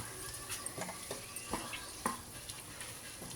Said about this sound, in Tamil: கருவேப்பிலை எல்லாம் போட்டு எண்ணெயிலேயே நல்லா வதக்கணும்